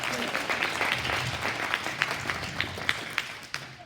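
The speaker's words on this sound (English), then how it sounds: "Let's give them a big round of applause and make a little noise for them." Audience at a cattle show claps for young showmanship winners, a moderately loud patter of hands with a few sharper claps standing out toward the end.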